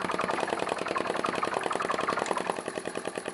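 A small vacuum (atmospheric) model engine, also called a flame-licker, runs steadily nearby, being slowed by hand; it gives a fast, even train of light mechanical ticks and puffs with no talk.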